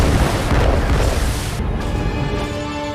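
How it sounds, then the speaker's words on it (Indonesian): A torpedo strikes and explodes against a warship in a TV series: one loud, deep, rumbling blast that fills the whole clip and slowly decays, with no talk over it. "Satu torpedo berhasil mengenai Nathan James."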